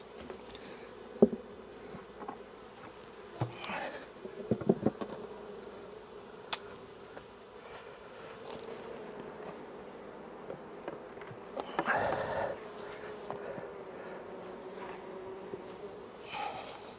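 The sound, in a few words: bees buzzing around a feeding pail from a hive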